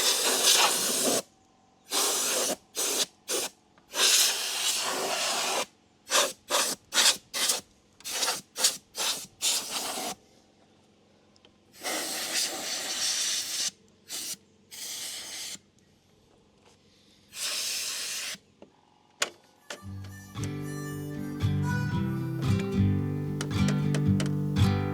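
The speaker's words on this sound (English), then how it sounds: "So I've got the air compressor and I'm just going to blow all this out the best I can." Bursts of compressed air hiss loudly as an air compressor nozzle blows debris out of a tractor radiator, coming in repeated short and long blasts with gaps of quiet, then giving way to music with singing.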